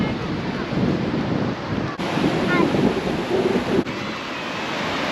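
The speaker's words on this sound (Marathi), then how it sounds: "नुसत्या लाटांचा आवाज आहे मित्रांनो, दुसरं काहीच नाही" Ocean waves wash continuously onto the beach at Diveagar in a low, rolling roar, with wind buffeting the microphone and brief breaks in the sound.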